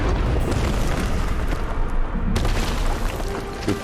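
A spell blast in the video game Hogwarts Legacy sets off a loud, dense explosive roar with a sharp renewed burst midway, filling the whole clip with a booming rumble.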